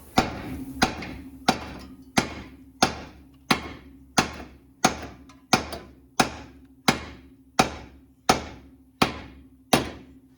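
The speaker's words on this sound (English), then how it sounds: "hammer time on the steering knuckle" A hammer strikes a steering knuckle on a 2006-2012 Ford Fusion during CV axle replacement in a steady series of about fifteen sharp, ringing blows, evenly paced and loud, with no talking.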